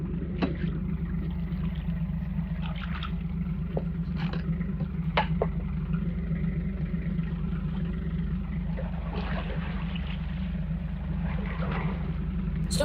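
A low, steady engine rumble drones throughout, like a boat motor idling or cruising, with occasional faint clicks and bumps on top.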